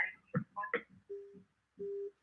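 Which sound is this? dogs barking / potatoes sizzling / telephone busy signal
telephone busy signal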